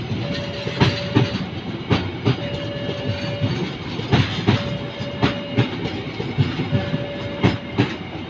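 Train hauled by a CC206 locomotive rolling past near Poncol in western Semarang, wheels beating out a steady, fairly loud clickety-clack in regular rhythm with a faint sustained tone in the background.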